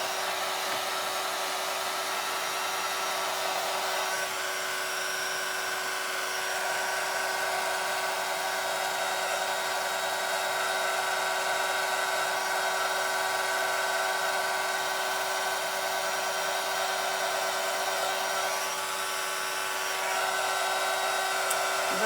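Heat embossing gun running for a rubber-stamp craft project, a steady, loud fan whine and airy hiss held without a break for over twenty seconds, close up.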